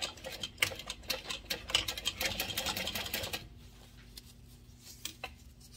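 A home sewing machine stitches a fabric sling at a 5.5 stitch length, a steady close whirring rattle for about three seconds before it stops, leaving quiet room tone with a few faint clicks.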